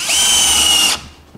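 A KIMO cordless drill driver in drill mode whirs at its second speed setting for about a second, a loud, steady high whine that cuts off abruptly.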